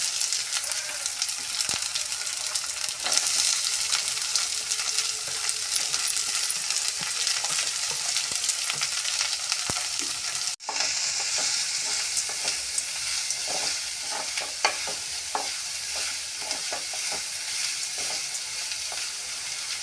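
Steady, dense sizzling of four large chopped onions frying in a pan, with scattered crackles and a brief clatter, continuous throughout with no talking.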